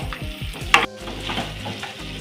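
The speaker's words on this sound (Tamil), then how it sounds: "எல்லாத்தையும் நல்லா மிக்ஸ் பண்ணிக்கலாம்." Banana stem stir-fry with salt and turmeric stirred in a pan, a spoon scraping in quick repeated strokes over a soft, steady sizzle, with one sharper clatter midway.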